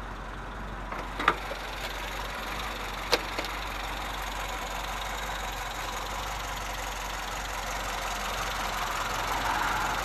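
A 1966 MG B engine with twin SU carburettors idles smoothly and steadily up close, a low even hum with a couple of brief clicks early on and no talking.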